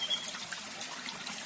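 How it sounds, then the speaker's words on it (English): Water flowing in a stream or waterfall makes a steady, soft, broadband rush with a gentle trickling texture, continuous and fairly quiet. "rolling waters of a stream, or perhaps even waterfall, whatever it feels like to you."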